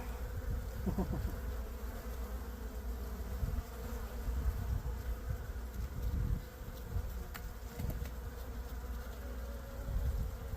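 Honey bees buzz steadily around an open hive during inspection, a dense low drone filling the whole stretch with small swells and passing individual bees, moderately faint and without talk.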